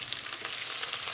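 Spices, mint and coriander leaves frying in oil in a pan over a low flame for beetroot pulao, a steady close crackling sizzle with no talk.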